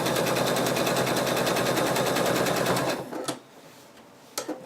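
A sewing machine stitches a betta fish plush in a fast, loud, even rattle for about three seconds, then stops, followed by a couple of brief clicks.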